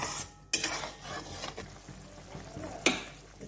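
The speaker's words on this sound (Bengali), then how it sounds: "চিনিটা ভালো করে গুলে যায়।" A spoon scrapes and clinks against a pan as sugar is stirred into a sour mourola fish curry, with a soft sizzle underneath and a few sharp metallic knocks standing out.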